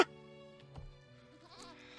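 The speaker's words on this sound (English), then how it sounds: "He's trying to hurt the goat." A goat bleats in a scene from an episode of the TV drama Interview with the Vampire: one short, wavering cry at moderate level, with no talk.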